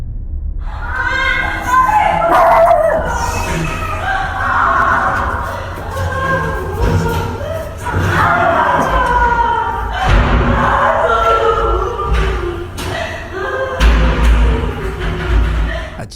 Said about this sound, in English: A child can be heard screaming, a woman sobbing, and heavy banging echoing through the hallway.